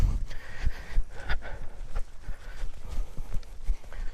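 A two-year-old filly being ridden in a hackamore or bosal gives a series of clear, close hoof clip-clops in an uneven walking rhythm, with faint movement noise and little talk.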